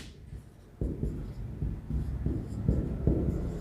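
Chalk or marker writing on a classroom board while solving a Class 10 maths problem, a steady series of scratchy strokes with short pauses between them, close and clear, with no talking.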